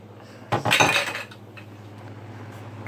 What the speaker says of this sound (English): Alrighty, I'm going to go stir the veggies.